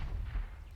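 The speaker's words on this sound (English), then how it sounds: "that shotgun crossfire, Mag 7 and the Nova" Mag-7 and Nova shotguns fire in a Counter-Strike match on the Inferno map, giving a loud, dense boom of gunfire that fills the brief moment with heavy low rumble.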